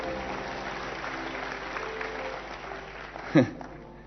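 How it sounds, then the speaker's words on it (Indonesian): A crowd applauds in a steady, dense clatter, with a brief louder bump near the end, during a church sermon. "kasih tepuk tangan buat Allah."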